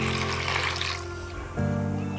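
Water splashes and runs as dried fish is rinsed in a kitchen, a steady trickling wash that shifts partway into a humming tap-like flow, close by with no talking.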